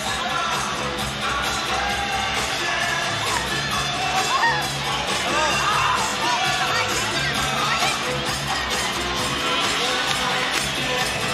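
Arena crowd noise at a college gymnastics meet between Air Force and Clemson, a steady dense murmur of many voices with scattered cheers and shouts throughout.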